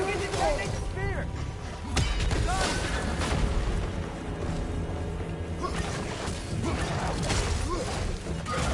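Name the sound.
detonating the spear in the video game God of War Ragnarök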